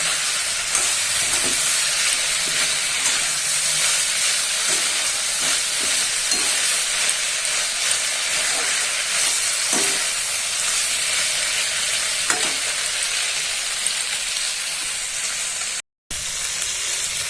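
Soybean chunks stir-fried in a pan give a steady, close sizzle and hiss that runs without a break, with a few soft scrapes as they are turned. No one speaks.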